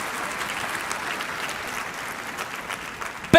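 A church congregation applauds on Easter Sunday, a steady, moderately distant patter of many hands clapping that fades slightly before a sharp close sound at the end.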